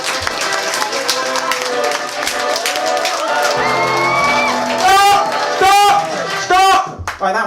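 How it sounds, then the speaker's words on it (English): Comedy club audience at a stand-up show shouting, whooping and clapping loudly in a dense mixed roar, with bursts of cheering swelling near the end and voices mixed throughout. "Okay, so start clapping now."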